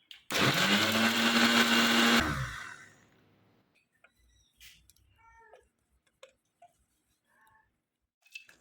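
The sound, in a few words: mixer grinder grinding peeled ginger and garlic into paste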